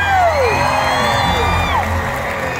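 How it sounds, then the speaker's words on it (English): Stadium crowd at an orca show cheering and whooping loudly, with high children's shouts and squeals rising over a sustained roar. "everybody in Orca Stadium to give him a great big cheer."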